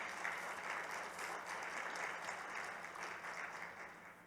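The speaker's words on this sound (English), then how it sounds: "Give them a round of applause, get them warmed up." Applause from an audience at a panel session, a steady even wash of many hands clapping at moderate distance with no voices over it, fading slightly toward the end.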